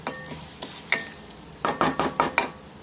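Mustard seeds and urad dal crackle and sizzle in hot sesame oil, a run of sharp popping bursts that grows busier toward the end, close up.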